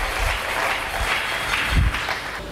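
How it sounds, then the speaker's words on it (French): Congregation applauding and cheering inside a church during a French-language sermon, a steady wash of clapping with some lower thumps, moderately loud and continuous throughout. "Est-ce que nous pouvons acclamer très fort?"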